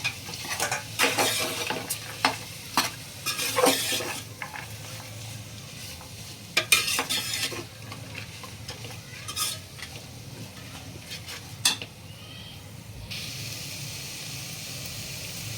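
Green beans and capsicum stir-fried in a pan for spiced pea rice, with a spatula scraping and stirring in loud bursts over a steady low sizzle, then a quieter stretch near the end.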